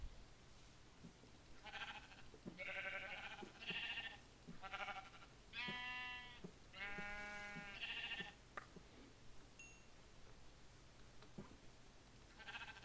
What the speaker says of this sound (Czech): A zabiju tady ovečku.